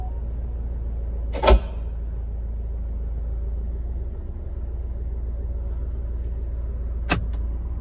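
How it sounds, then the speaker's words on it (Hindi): A Hyundai Venue sits parked with its engine idling after being started, giving a steady low rumble throughout, broken by two sharp, brief clicks, one early and one near the end. "देखो स्टार्ट करते हैं गाड़ी को"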